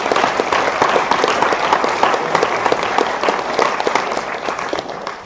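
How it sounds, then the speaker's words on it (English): An audience at the opening ceremony of the FIRST Tech Challenge 2023 Australian Championship applauds the referees with dense, loud, sustained clapping that fills the whole stretch. "Let's get a huge round of applause for our referees"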